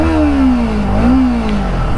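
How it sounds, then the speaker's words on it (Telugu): A Kawasaki Ninja 300 with a 296 cc liquid-cooled parallel-twin engine idles and blips its throttle, a loud steady exhaust drone that dips and rises in pitch briefly. "ఒకసారి ఎగ్జాస్ట్ సౌండ్ వినండి."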